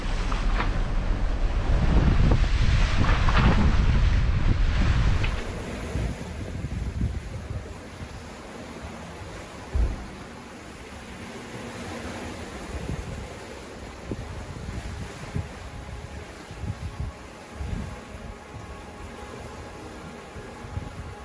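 Storm wind and breaking waves at sea aboard a sailing boat under sail, a loud gusty roar in the first few seconds easing to a steady rushing wash with occasional thumps of water.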